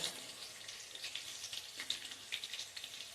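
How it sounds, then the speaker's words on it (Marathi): Green chillies sautéing in a pan for Marathi rice-grit kanya, a soft, quiet crackling sizzle with small intermittent pops throughout. "तसे ह्या मिरच्या परतून घ्यायच्या छान म्हणजे तो पदार्थ अगदी खमंग होतो"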